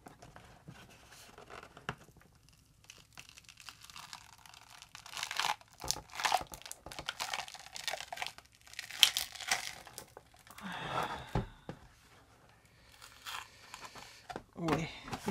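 A stuck piece is peeled off by hand while making a homemade storage column for Distress ink pads, giving intermittent close crinkling and papery tearing in uneven bursts, with quiet talk in places.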